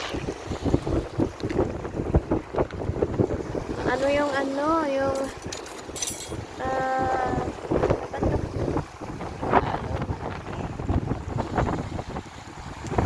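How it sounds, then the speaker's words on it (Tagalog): Strong wind buffets the microphone throughout, with a person talking and brief tonal voice sounds mixed in. "mahangin kasi"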